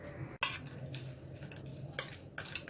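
Onion, fried peanuts, salt, chili powder and lemon juice mixed in a bowl, a spoon clinking and scraping against the bowl in short bursts with quieter stirring between.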